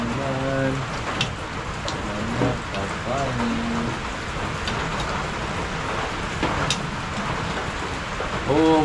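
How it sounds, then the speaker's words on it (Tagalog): Steady rain falls continuously, a dense even patter that fills the background throughout, while people talk intermittently over it. "Umulan na naman."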